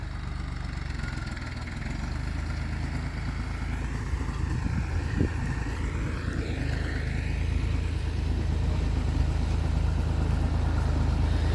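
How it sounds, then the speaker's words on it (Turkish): A tractor, a 35-horsepower Massey Ferguson used on a maize field, idles and rumbles steadily with a low engine drone that grows slightly louder as it draws nearer, alone without talk. "Hatta gerek yok traktör geliyor."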